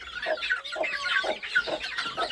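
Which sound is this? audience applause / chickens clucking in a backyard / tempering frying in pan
chickens clucking in a backyard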